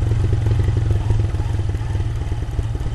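A motorcycle engine runs close by with a rhythmic clattering idle while the brakes are applied, steady and loud throughout the whole stretch.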